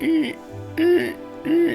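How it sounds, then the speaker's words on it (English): A bird calls just outside a window, three evenly spaced hooting notes, close and fairly loud, with brief pauses between them. "Oh, it's a bird."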